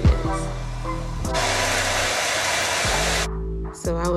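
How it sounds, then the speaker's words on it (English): Blow dryer run over the inside of a wig cap to dry glue, a steady loud broadband whoosh with its pitch and airflow shifting as it is switched between settings, cutting off near the end. "So I just took my blow dryer and ran it over the inside of the cap for a few minutes."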